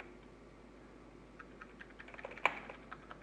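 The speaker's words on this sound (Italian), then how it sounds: "sento che stai spaccando la tastiera" Computer keyboard keys struck hard during a PC game session, scattered sharp clacks that grow denser, with one loud hit and a soft steady hum underneath.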